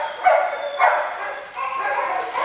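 Shelter dogs in an adoption kennel, including an American pit, retriever and Lab mix, give a few short barks and yips at about 0.3 and 0.8 seconds, with kennel noise and a voice running through the rest.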